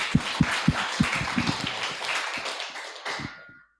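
Audience clapping at an alumni geology talk gathering, a dense patter of hands with a few sharper taps standing out at the start, fading toward the end.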